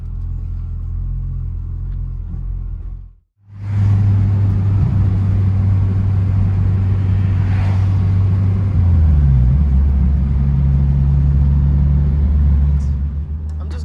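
A 9th gen Honda Civic on Rev9 coilovers drives along, its engine and road rumble a steady, loud, low drone that cuts out briefly near the start and then shifts pitch as the car changes speed.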